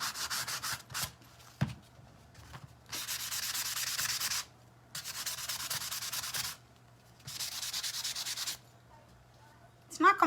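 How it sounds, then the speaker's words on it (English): A Dollar Tree cathedral window craft piece being sanded by hand, three long, loud, close bursts of gritty scraping separated by quiet pauses, with a few small knocks between strokes. "So we'll just sand this a little."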